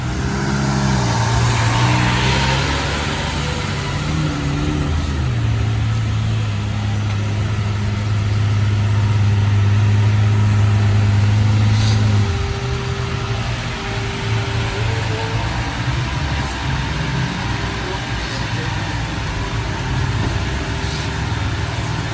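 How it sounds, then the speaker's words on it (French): A Lamborghini Aventador SVJ supercar engine idles and rumbles steadily nearby for a long stretch as the car arrives, its low drone shifting in pitch as it revs gently. "Une SVJ d'Espagne qui arrive."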